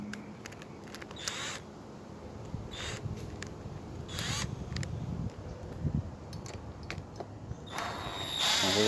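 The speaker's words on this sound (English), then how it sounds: "This time I'm going to tighten this nut real tight so that does not happen again." A nut on the flywheel shaft of a Ryobi chainsaw with a sheared keyway is being tightened. Quiet metallic clicks and ratcheting bursts come in short, irregular clusters, close by in a hushed workshop.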